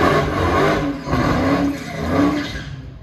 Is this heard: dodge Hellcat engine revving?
yes